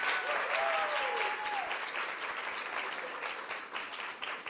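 An audience at a university presentation applauds its production team, with sustained, even clapping from many people and a few high whoops and voices rising above it early on before the clapping gradually softens.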